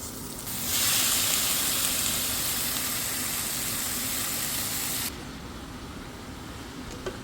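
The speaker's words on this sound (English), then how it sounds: "And then we're gonna add in our quickly rinsed bittergourd" Bittergourd hits a hot pan with softened garlic and chili and sizzles loudly at once, a close, bright hiss for several seconds. The hiss then drops sharply to a quieter steady frying.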